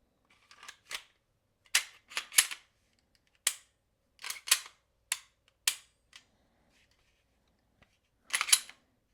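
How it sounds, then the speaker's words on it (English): Sharp metallic clicks and clacks come from a Canik TP9SFX pistol as its slide is fitted back onto the frame after a trigger install, falling in scattered single and paired snaps close to the microphone. "Now we can just throw our slide back on."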